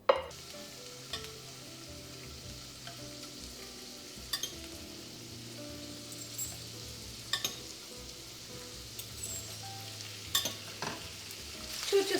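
Loukaniko sausages fry in a pan with a steady soft sizzle, broken by occasional louder crackles and pops and a few stirring or scraping knocks, close and alone without any talk.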